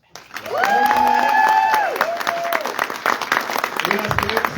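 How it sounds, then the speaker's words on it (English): Audience at Tremors Fest clapping and whooping for a costume contest, a dense, steady wall of applause with rising cheers and high-pitched shouts, staying loud throughout. "let's give them a round of applause"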